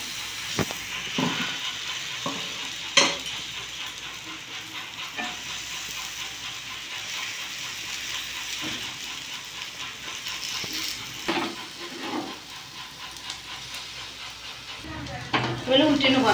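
A bay leaf sizzles and fries in hot white oil in a pan, a steady crackling hiss with occasional clatters and scrapes of stirring, continuing throughout.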